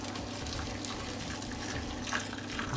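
Boiling hot water poured into a pasta dish, a soft continuous splashing trickle that stays even and quiet, with no talking.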